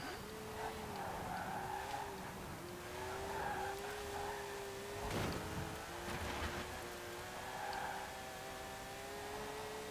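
A 1959 Porsche 356 A 1600 Super racing in Forza Horizon 4, understeering through a corner: steady engine drone with sustained tire squeal and skidding, a loud burst midway, continuous and close.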